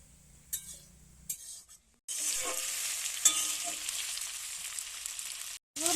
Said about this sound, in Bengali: চালটা ভালো করে একটু আমি নাড়তে থাকবো।